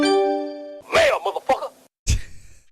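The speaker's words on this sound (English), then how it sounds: "right now my ringtone is the sound of a secret from Zelda" A video-game secret-found jingle from Zelda, used as a phone ringtone, sounds as a bright sustained chime for under a second before people start talking.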